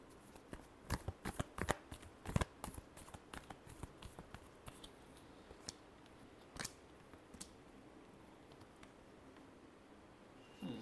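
A deck of tarot cards is shuffled in quick, crisp riffling bursts close by, thinning out to a few scattered taps and flicks in a quiet room.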